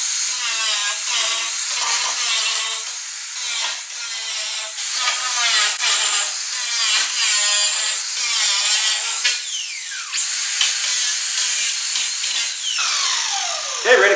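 An angle grinder cuts down screws on a DIY round bale hay feeder, a loud, harsh, continuous high-pitched whine close by, with brief dips and pitch shifts as the disc bites and releases.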